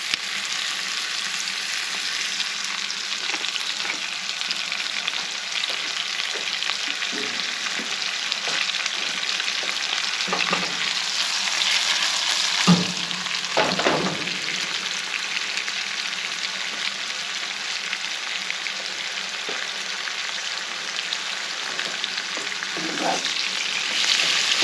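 Chicken and noodles sizzling in bacon grease on a grill, a steady, loud frying hiss throughout with occasional stirring scrapes and clanks.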